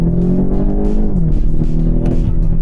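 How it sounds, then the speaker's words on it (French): A car accelerates hard from a standstill toward 50 km/h, its engine note rising steadily and loud from inside the cabin, with no talk over it. "c'est aussi une voiture qui marche très fort. Franchement, l'accélération, elle est vraiment bluffante."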